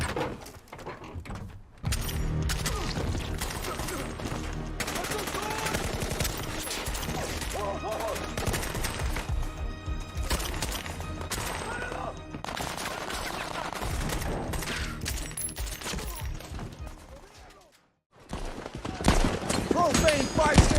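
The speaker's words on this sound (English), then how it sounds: "I'm going to show you two gunfights." Loud film gunfight sound effects from action movies, with dense bursts of rapid automatic gunfire and sharp shots filling most of the stretch, a brief near-silent gap, then more heavy firing.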